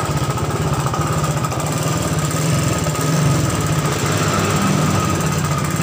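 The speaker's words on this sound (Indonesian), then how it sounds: "motornya hidup guys." A Suzuki Shogun motorcycle engine fitted with a Supra CDI runs steadily, a close, loud, rapid putter that holds level throughout, with no talk over it.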